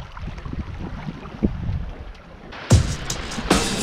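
Sailboat moving at about five knots in roughly 13 knots of wind on a beam reach, giving a steady rush of wind and water with some louder gusts and splashes near the end.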